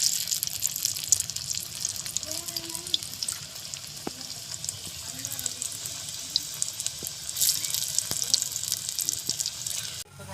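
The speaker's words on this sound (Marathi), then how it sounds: "सगळ्या वड्या आता आपण तळून घेऊ" Alu vadi, rolled colocasia-leaf slices, deep-frying in hot oil, giving a steady bubbling sizzle throughout with occasional soft clinks from a utensil, no talking.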